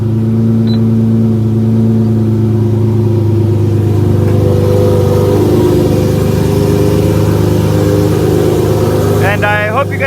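A Lamborghini Murcielago LP640 fitted with an aftermarket exhaust fires up and settles into a loud, throaty rumble close by, then blips sharply at the end.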